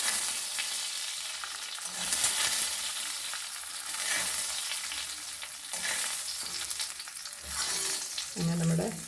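Hot oil tempering with curry leaves is poured over ground chutney meant for uttapam, giving a loud, continuous sizzle with crackling bursts that swell and ease over several seconds, with no talking.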